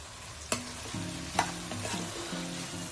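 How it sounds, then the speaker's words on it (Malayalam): Chicken sizzles quietly in a pan for fried rice while a utensil stirs it, with a couple of sharp scrape-and-clack strikes over a steady soft frying crackle, close and without talk. "അതിലേക്ക് ചിക്കൻ ചേർത്ത് കൊടുത്ത് മിക്സ് ചെയ്യാം. ചിക്കൻ അതിൽ കിടന്ന് വേവിച്ചെടുക്കണം."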